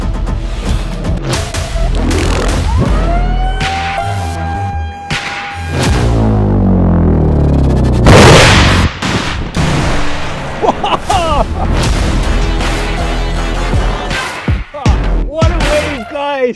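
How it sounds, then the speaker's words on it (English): A rocket motor fires and blows apart in a test bunker, with repeated loud booms, sharp cracks and whooshing bursts, including a brief rising whine, spread across a long, chaotic and very loud stretch. "This was our rocket motor blown away by Chris."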